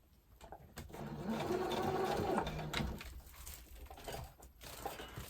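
A home sewing machine stitches through layered fabric for a scrappy Christmas tree ornament, a steady mechanical whir that runs a little slower than usual, rising for a few seconds and then easing off in short bursts.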